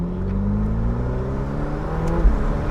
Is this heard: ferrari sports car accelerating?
yes